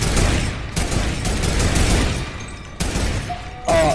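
Gunfire in Fortnite with a sniper rifle, heard as loud sharp shots and bursts of firing that cut in and out over a few seconds, with game effects behind and no talk.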